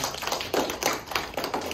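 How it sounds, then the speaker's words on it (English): A small audience at a middle school cross-country awards gathering claps for a medal-winning runner, a loose, moderately loud patter of individual hand claps with a few stronger bursts, no talking over it. "Let's give Langston a round of applause for that"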